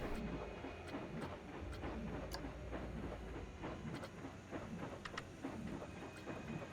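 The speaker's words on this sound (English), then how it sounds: "And that's just like the slow train." A slow roller coaster train in Planet Coaster rumbles along steadily, fairly faint, with a low continuous roll and scattered light clicks and ticks from the track, no voices.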